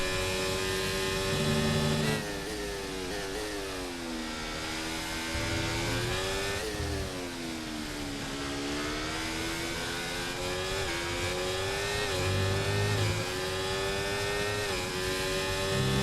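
Formula 1 race car engines at the British Grand Prix in the F1 24 game, a loud sustained high-revving whine that climbs and drops through gear shifts, with another car's engine passing nearby.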